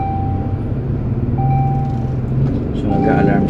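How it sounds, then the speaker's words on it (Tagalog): Warning chime of a Chery Tiggo 5X with the rear left door left open, thin steady beeping tones heard faintly under a continuous noisy background, with someone talking. "So, nag-a-alarm siya."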